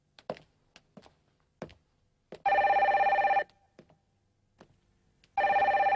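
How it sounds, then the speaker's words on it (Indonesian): Telephone ringing in an office in an animated soccer series, two long electronic ring bursts separated by a pause, with scattered light taps and thumps between them and no talking. "ada telepon dari pelatih Berneval"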